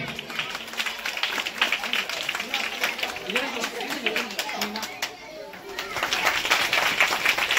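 An audience at a school twinning programme claps for the winner of a badminton trophy with a steady patter of applause, while voices talk over and around it.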